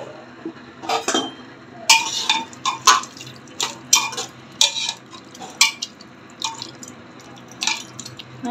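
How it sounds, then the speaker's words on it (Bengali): Someone rinses a wok and pours in a little water: splashes, drips and metallic clinks and scrapes arrive in irregular bursts over several seconds, close and clear with no talking. "এই যে আমার কড়াইটা ধুয়ে আমি এইটুকু জল দিয়ে দিচ্ছি"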